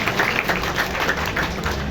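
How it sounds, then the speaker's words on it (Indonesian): Crowd applause at an outdoor police security drill honouring an anti-riot detachment in Sukabumi, dense and steady clapping from many people with some sharp individual claps standing out nearby. "beri tepuk tangan untuk tim 45 Anti Anarki"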